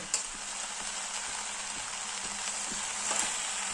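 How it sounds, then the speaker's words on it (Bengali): Mixed vegetables with Malabar spinach sauté in a small wok, giving a constant soft sizzle with faint regular scraping ticks of stirring running underneath. "এই সবজির সঙ্গে একটু কষিয়ে নিচ্ছি আমি"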